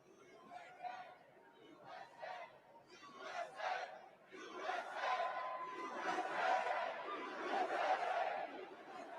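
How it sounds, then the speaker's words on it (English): A large crowd cheers and chants at a Trump rally. Rhythmic bursts of massed voices come first, then swell into a continuous roar, heard from a moderate distance and fairly faint. "Listen to the crowd."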